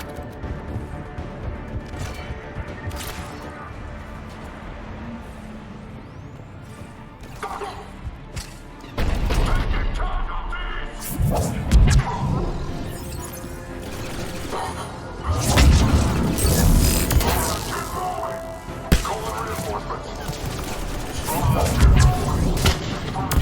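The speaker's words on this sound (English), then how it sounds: "The cannon fire is clearing the way." Cannon fire and explosions in the video game Mass Effect, heavy booms and thuds building into dense, loud bursts over a rumbling battle bed, with voices talking at times.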